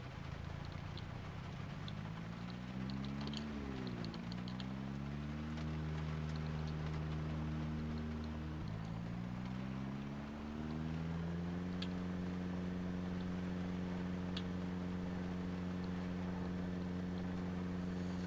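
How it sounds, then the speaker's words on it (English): A car engine in the video game Project Zomboid, a loud steady drone that climbs and drops in pitch as it shifts gears and strains near redline, continuous throughout with no talking. "Again, apologize for the engine noise because we're"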